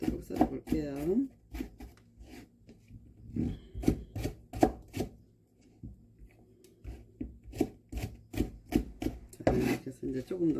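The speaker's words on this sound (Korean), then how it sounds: "그래서 이렇게 또박또박 썰어 볼게요" A kitchen knife slices Cheongyang chili peppers on a cutting board into neat pieces, giving sharp, close chopping strikes in uneven runs broken by short pauses. A voice speaks briefly near the start.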